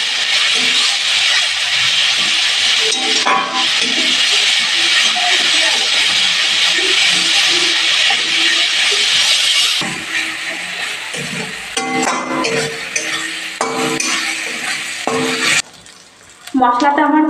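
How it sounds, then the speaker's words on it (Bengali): Spices and chilli powder sautéing in oil for a mutton curry, a loud, dense hiss of frying that eases partway through and gives way to scattered stirring clatter and scrapes. "আর শুকনো লঙ্কা গুঁড়ো দেবো পরিমাণ মশলাটাকে ভালো করে কষিয়ে নেব"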